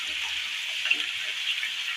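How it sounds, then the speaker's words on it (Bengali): Boiled young jackfruit fries in hot oil, giving a steady, bright sizzle that hisses on throughout, with faint clinks of stirring beneath it. "সেদ্ধ করা ইঁচড়টাকে আমি ভালো করে তেলের মধ্যে আগে ভেজে নিই"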